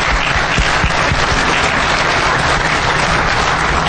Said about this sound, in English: We can applaud them if they're not here,